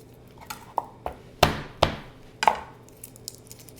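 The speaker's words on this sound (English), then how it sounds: "You just want to chop off the root end of your garlic" Garlic is chopped with a knife on a cutting board in a home kitchen: about six sharp, separate knocks at an uneven pace, loud and close, with quiet room noise between them.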